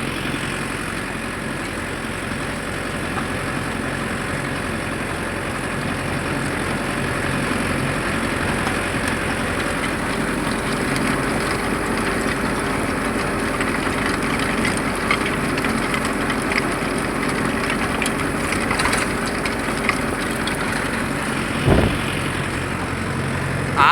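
A Mahindra Yuvo Tech Plus 585 4WD tractor pulling a 42-blade rotavator through a mango farm field, its diesel engine droning loud and steady throughout with a faint mechanical rattle.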